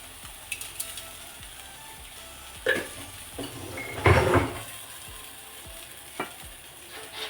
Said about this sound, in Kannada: ನೋಡಿ ಸ್ವಲ್ಪ ಉಪ್ಪು ಹಾಕ್ಕೊಂಡು ಹುರಿತಾ ಇದ್ದೀನಿ.